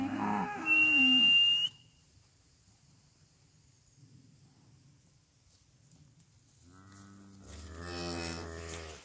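Cows being called in for their evening feed moo; one low bellow is heard near the start, followed by a quiet stretch and then another long, rising moo toward the end.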